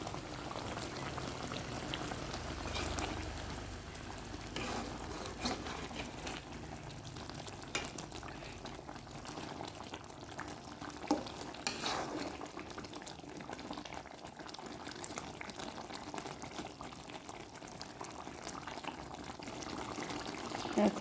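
Chicken roast gravy, wedding-style, being mixed with about two teaspoons of milk powder in a pan, giving a steady low bubbling and simmering hiss with soft scraping stirs throughout, close and moderately quiet, no talking.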